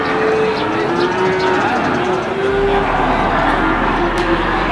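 Several cattle, including Simmental and Limousin, moo in long low calls amid the busy murmur of a crowded Indonesian livestock market, with faint voices in the background.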